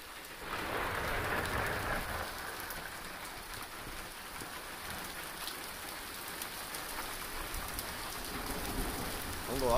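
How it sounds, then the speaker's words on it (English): Heavy rain pours steadily in a dense, hissing wash during an Arizona lightning storm, loud and unbroken for the whole stretch with no voices. "It's pouring."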